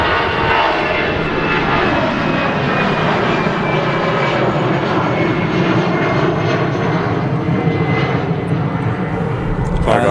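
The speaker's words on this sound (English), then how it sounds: "the Air France A380 will be out first, rolling now" An Air France Airbus A380 rolls for takeoff at Manchester Airport, its engines giving a continuous loud roar at a distance, with someone talking faintly over it.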